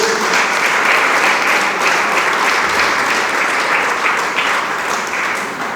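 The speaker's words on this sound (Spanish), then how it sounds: "Dele palmas al Señor." A church congregation claps steadily during a Spanish-language service, dense continuous applause that is loud and close, with no break across the whole stretch.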